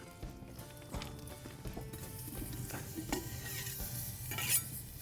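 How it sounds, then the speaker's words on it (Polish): Wild game being fried in a pan for a duck and pheasant dish, giving a steady, moderately loud sizzle with stirring clatter throughout and no voices. "I już zaczynamy podsmażanie."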